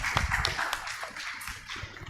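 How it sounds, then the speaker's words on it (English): Scattered audience applause closing a session at a human rights conference: loose, uneven claps at moderate level, busiest at the start and thinning toward the end. "applause for us"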